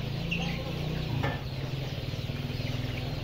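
Chickens on a chicken farm: a few soft clucks and calls sound close by over a steady low mechanical hum, with a brief clatter partway through.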